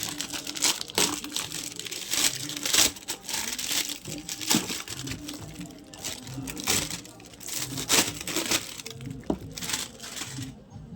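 Crinkling and crushing of a delivered package's plastic wrapping as it is torn open, busy close-up rustles with sharp crackling bursts throughout, no talk.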